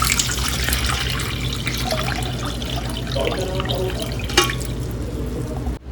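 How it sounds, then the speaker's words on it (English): Kombucha starter liquid pours through a fine mesh strainer into a bowl, a continuous splashing trickle of liquid heard close and fairly loud throughout. "we're just going to put them through like a little fine mesh strainer, and we're going to add them to our bowl."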